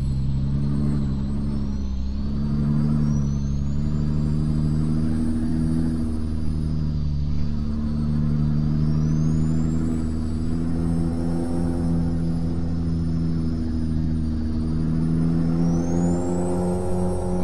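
A Peterbilt 389 truck engine drones steadily while driving in a truck simulator game, a constant low rumble with a sustained harmonic hum and faint high whines rising at times, with no talking.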